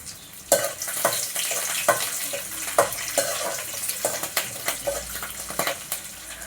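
Green chillies hitting hot oil in a home kitchen pan, setting off a bright, crackling sizzle with sharp pops and spits scattered through it, close and steady, no voices.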